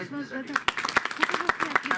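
An audience at a Marathi poetry event claps for a poet, scattered hand claps quickening into light applause after a man's spoken introduction.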